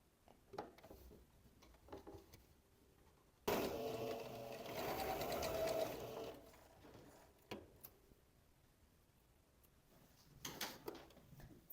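A sewing machine stitches a 1 cm seam on a shirt in one steady run of about three seconds in the middle, with quiet handling noises before and after.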